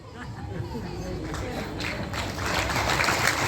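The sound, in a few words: devotees clapping in applause at an ashram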